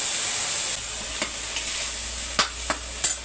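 Herb paste of shukloti and narasingha leaves frying in a pan, a steady hiss and sizzle with a few sharp scraping stirs of a spoon near the end, close and clear with no talking.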